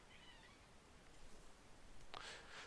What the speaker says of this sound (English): if you heard my cat meow